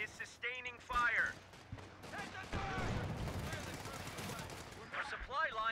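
Gunfire from a Company of Heroes 2 battle crackles in bursts and scattered shots amid explosions and game noise, with a voice talking over parts of it.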